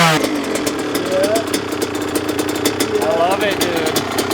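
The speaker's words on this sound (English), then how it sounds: "I love just hearing the crackle of the exhaust" Kawasaki KLX 112 dirt bike from 2022 idling close by, a steady engine note with crackling exhaust pops running throughout, with people talking over it.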